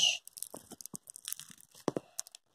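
Green money slime being stretched and handled, giving a string of crisp crackling, crunchy snaps and tearing bursts close up, with short bursts spaced unevenly and no talking.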